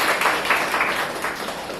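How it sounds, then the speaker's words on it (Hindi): Steady crowd applause fills the whole stretch, a dense wash of many hands clapping with slight swells and no pauses. "जोरदार तालियां एक बार खुद के लिए बजाइए।"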